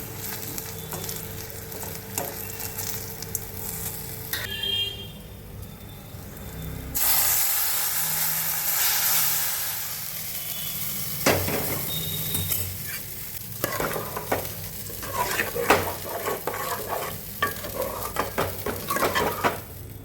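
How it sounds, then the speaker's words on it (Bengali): Spices tempering in a small amount of oil for vegetable khichuri, with a steady sizzle, stirring scrapes and clinks of a pan and utensils close by, a burst of hissing midway when something is added. "সামান্য তেলে ফোড়ন দিচ্ছি তো, তাই খুব বেশি তেল দিলাম না"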